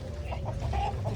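A Rangu Dega breed rooster clucks at a busy chicken market. Several short, rhythmic clucks come close together, near and clear, over a low background hum.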